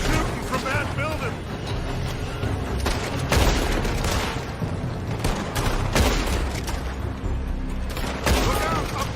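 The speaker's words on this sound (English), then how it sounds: "They're shooting from that building." Rapid gunfire cracks from a building in Red Dead Redemption II, repeated shots scattered through a dense battle soundscape with voices talking over it.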